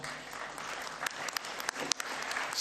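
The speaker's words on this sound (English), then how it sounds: "Can we clap hands for Madame Canizar?" Delegates at a football confederation general assembly applaud in a hall, moderately loud clapping with individual sharp claps standing out above the crowd.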